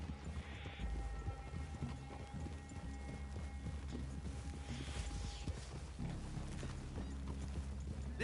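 Horses clip-clop at a steady walking pace in a Red Dead Redemption II Western setting, hooves close and continuous under low ambient game sound, with an occasional faint snort.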